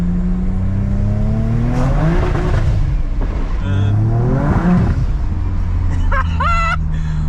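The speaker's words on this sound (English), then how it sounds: "I'm just gonna go like half throttle." A BMW with a tuned N54 engine accelerates at half throttle, its rising engine harmonics sweeping upward through repeated gear pulls, loud and close, with turbo whine and brief shift breaks.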